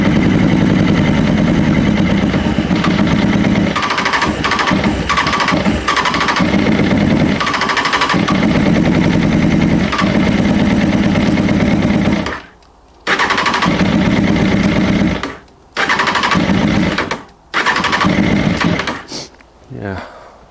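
A Honda CB600F motorcycle engine with a suspected carburettor fault runs loud and close, failing to respond to the throttle. The steady drone cuts out abruptly several times near the end, with voices over it.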